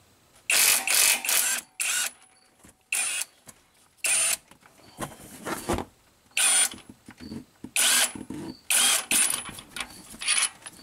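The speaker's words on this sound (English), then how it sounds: "impact gun. Brushless motor." A cordless brushless impact gun fires in repeated short bursts, some in quick hammering pulses, with quiet gaps between them. Each burst is close and loud, and a brief stop brake ends each one.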